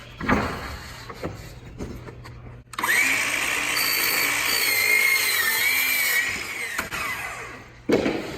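Power saw cutting baseboard trim to length, a loud steady whine starting abruptly and running about four seconds before winding down, with a sharper burst near the end and quieter handling noises before it.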